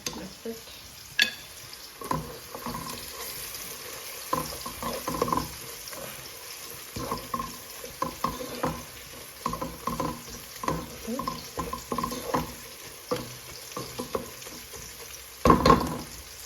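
Fish frying in a pan, a light sizzle under repeated stirring and scraping clatter with irregular knocks, plus a louder burst near the end.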